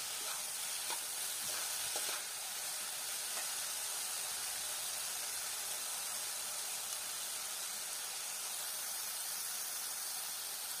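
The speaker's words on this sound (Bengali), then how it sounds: "তো এবার আলুটাকে দিয়ে পেঁয়াজের সাথে ভালো করে নেড়ে চেড়ে ভেজে নিব।" Finely sliced potatoes and onions frying in a pan for a Bengali small-fish chorchori, giving a faint, continuous sizzle with a few soft stirring clicks early on and no talk.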